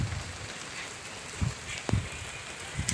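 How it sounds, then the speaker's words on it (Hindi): Light rain patters steadily on a farm, a soft hiss broken by a few scattered drips and thuds on nearby surfaces, faint and close with no voices. "देखिए बारिश हो रही है।"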